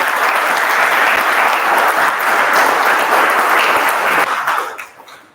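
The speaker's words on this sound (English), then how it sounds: "Let's have a huge round of applause." At a joint Toastmasters club meeting, a room applauds to welcome the Toastmaster of the day, a loud, dense burst of clapping that holds steady for several seconds and then tapers off quickly.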